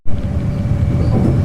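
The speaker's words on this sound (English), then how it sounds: "So that's the train heading to the city." A Melbourne Metro train rolls past, a broad steady rush of wheels and rail noise with a faint high tone, loud and close, with no voices.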